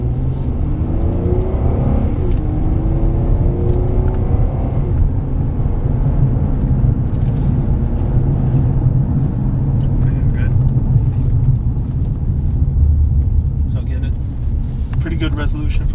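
A Ford car drives along a road past a Ford Fiesta stopped in its lane, with a loud, steady engine and tyre rumble from inside the cabin. Someone talks over the noise throughout.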